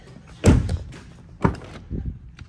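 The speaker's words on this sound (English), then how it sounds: "unlock the door." Car door being unlocked and opened, a sharp latch clunk followed by a second thud and softer rattling handling noises, close and loud with no talking.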